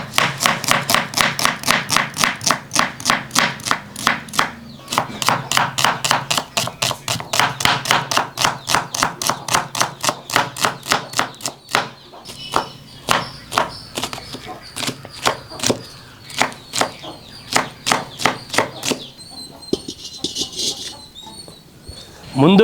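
Rapid, steady knife chopping of onions, green chillies and curry leaves on a board, crisp close taps in long runs with brief pauses, slowing and thinning toward the end.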